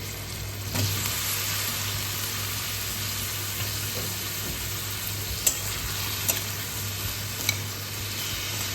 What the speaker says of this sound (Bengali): পেঁয়াজটা মোটামুটি ভাজা হয়ে গেছে, খুব বেশি ভাজবো না। এবার এই ভাপিয়ে রাখা সবজিগুলো দিয়ে দেবো।